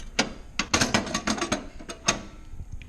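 A coin kit for a Speed Queen laundry machine slides and clicks into place, a quick series of close metallic scrapes, ratcheting clicks and knocks over about three seconds.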